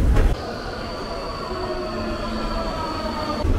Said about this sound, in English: you need to take this metro